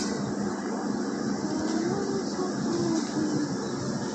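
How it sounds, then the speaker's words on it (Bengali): A train pulls into a station with a continuous, steady rumble and a few faint, squealing tones rising over it, while no one speaks. "তারপরে ট্রেন আসবে"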